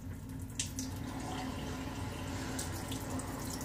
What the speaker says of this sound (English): Trying to get the water hot.